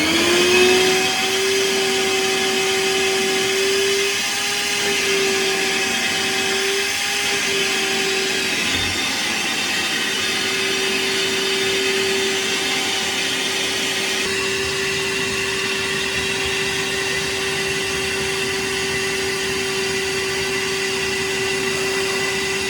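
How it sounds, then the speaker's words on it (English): Wet vacuum cleaner converted for liquid use, sucking water from an old rusty radiator in a narrowboat bathroom: a loud continuous motor whine with a shifting steady tone and gurgling suction, running alone for over twenty seconds. "convert the vacuum to liquid use and get it inside of here"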